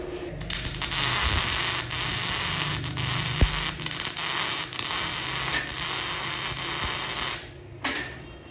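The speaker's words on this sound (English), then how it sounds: "you would hear that the machine was stuttering, and it was that the wire was slipping" A Bestarc 145A MIG welder running 0.8 mm wire at 110 amps buzzes and crackles with a harsh arc, stuttering in uneven bursts and brief dropouts as the wire slips on the drive roller, then cuts off near the end.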